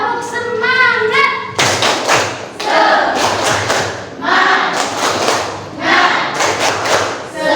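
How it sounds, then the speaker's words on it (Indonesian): A school class performs a rhythmic group clap chant, bursts of loud unison claps and thumps in repeated patterns with chanted voices, starting after a brief sung or spoken lead-in. "Ice breakingnya kita tepuk semangat aja lah, biar semangat lagi kita"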